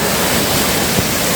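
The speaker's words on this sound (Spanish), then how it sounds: "Esto es arriba, casi de la cascada ya." Loud, steady roar of a waterfall near the source of the Cuervo river, a dense continuous rush of falling water close by with no pauses, filling the whole scene alone.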